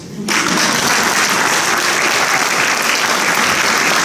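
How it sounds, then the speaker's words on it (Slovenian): Applause from a concert audience in a school hall at a charity event starts abruptly and holds as a dense, steady clapping for several seconds. "Lahko še zaradi domačih nalog še en aplavz."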